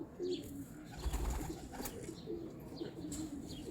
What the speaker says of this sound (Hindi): बड़ा लाजवाब कबूतर है माशाल्लाह से।